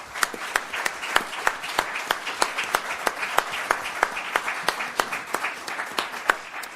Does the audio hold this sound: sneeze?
no